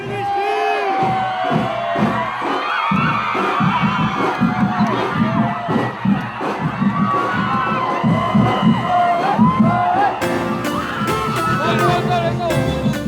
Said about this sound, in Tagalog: dumagundong ang ingay at hiyawan sa mga kalsada ng Tondo